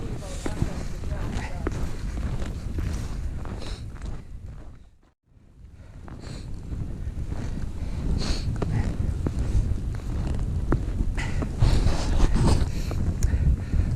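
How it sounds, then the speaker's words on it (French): Strong, steady wind gusts buffet the microphone on an open snowy slope of Mount Akita-Komagatake in winter, just above the forest line. A person talks over the roar, and the wind drops briefly before surging back. "le vent est plus fort et la neige est beaucoup plus... il neige beaucoup plus qu'avant"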